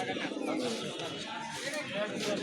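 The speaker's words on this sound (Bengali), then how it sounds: "এইখানে একটা ঝাঁক কবুতর আছে" A flock of pigeons at a market pigeon stall cooing in soft, overlapping throaty warbles, close and continuous, with people talking in the background throughout.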